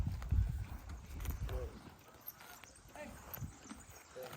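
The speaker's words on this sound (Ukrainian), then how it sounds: "Знімаю, як, як виглядають робочі коні." Working horses' hooves clop intermittently on the ground nearby while people talk, the footfalls uneven and fairly faint.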